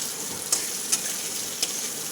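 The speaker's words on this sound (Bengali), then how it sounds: "নাড়াচাড়া করে ঢাকা দিয়ে দেবো।" Potato curry in a pan sizzles softly while being stirred, a low steady fry broken by three brief scraping clinks of the spoon, close and quiet, with no voices.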